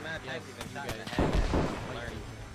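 A World War 1 cannon fires in the Arma 3 video game, a heavy booming blast with a rumbling tail midway through, heard under ongoing voice chat among players.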